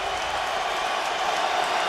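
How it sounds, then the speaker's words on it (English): A home crowd roars steadily in a Buffalo Bills football stadium, a dense, sustained wash of cheering and applause that stays loud and even throughout. "The Bills crowd really kicks in"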